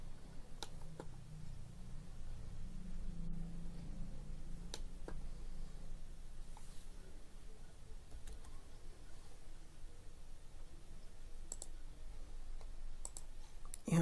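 A computer mouse clicks now and then, sharp isolated ticks spread across a quiet room tone with a low hum, close and faint.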